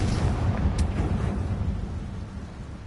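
The fiery Confringo blast spell in Hogwarts Legacy, a single broad explosive burst with a sharp crack that fades into a rumbling tail.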